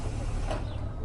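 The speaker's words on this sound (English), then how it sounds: "The doors creaked open." Bus doors creak open in a short, loud mechanical groan over a steady low rumble.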